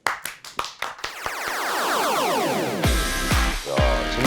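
Applause opens a math lecture: a handful of sharp, spaced hand claps build into steady, dense group clapping, followed by bright, swelling stings of music with heavy percussive hits near the end.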